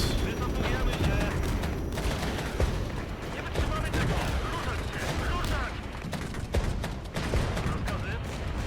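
Continuous crackling rifle fire and distant booms roll on from a Regiments battle between Polish infantry and British armour, a dense, unbroken fusillade with talk underneath.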